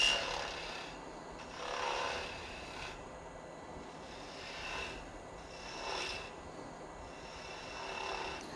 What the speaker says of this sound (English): This is just a spindle gouge, and it's just a great way to get down to what I want for my tenon.